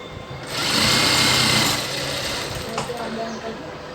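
Close, steady whir of a sewing machine stitching a gown along matched marks, running continuously with a slight swell early on and a faint voice in the background.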